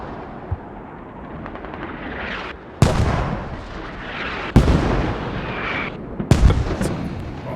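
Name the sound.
mortars hitting close in a video game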